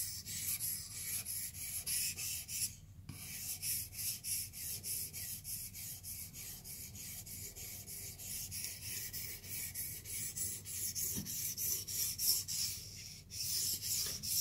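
A knife is being sharpened on diamond resin stones during a Blitz 360 sharpening session, giving a continuous smooth rasping rub in steady back-and-forth strokes with one brief pause, close and moderately quiet, no talking.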